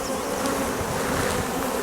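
Dense, steady buzzing of many honey bees at an open beehive, close and continuous with no pauses and no talking.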